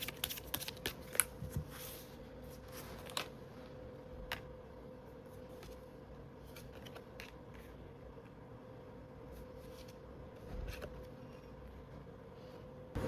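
Tarot cards being shuffled and drawn at a quiet table, a soft near series of papery riffles and flicks with a few sharper taps early on and faint handling sounds afterward, no talking.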